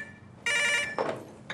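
A telephone rings in a Turkish TV drama scene: a single burst of electronic trilling ring, loud and close. A short softer noise follows, and the ring starts again at the very end.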